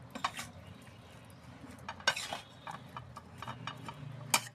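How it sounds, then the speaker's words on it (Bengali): A dry spoon stirs raw jackfruit pickle in a jar, giving faint, scattered clinks and scrapes of metal against glass, quiet and irregular with no talking. "আমি একদম শুকনো একটা চামচে দিয়ে এটাকে একটু নেড়ে দেবো।"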